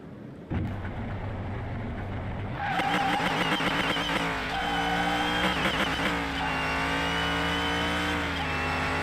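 A car tears down a runway in Car Mechanic Simulator, its engine note climbing through the gears with tire squeal and a steady high-speed roar; no one talks.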